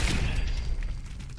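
Dense gunfire from Fallout 76 as the player fights off security turrets, a loud continuous barrage with booming low rumble filling the whole moment and no speech.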